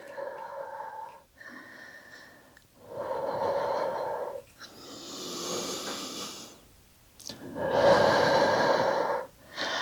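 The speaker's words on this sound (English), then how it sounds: "Deep breath in" Deep breathing during a vinyasa flow yoga practice, with several long, close, audible inhales and exhales that come in slow, separate waves, each loud and airy, with no talking over them.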